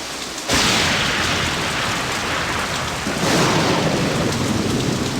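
Stormy San Francisco weather in Nancy Drew: Message in a Haunted Mansion, with heavy rain pouring and a rumbling roll of thunder that swells loud and fills the whole stretch, then surges again partway through, with no voices.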